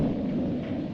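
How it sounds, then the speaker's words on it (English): Low, continuous thunder rumble from a 1935 Western serial soundtrack, deep and steady with no breaks over one short second. "There's that thunder sound."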